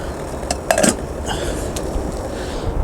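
A lid goes onto a pot sitting on an alcohol stove where a cake is baking. It makes a brief metallic clink and rattle over a low, steady background hiss.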